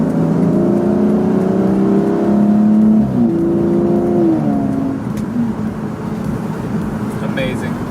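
An Aston Martin engine hums and revs on a road trip, its tone rising and falling in smooth sweeps under steady road noise; a person talks at times over it.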